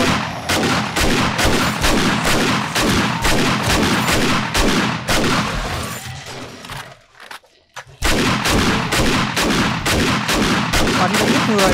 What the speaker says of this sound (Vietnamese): Đấy người ta gọi là auto shotgun, nó là như vậy.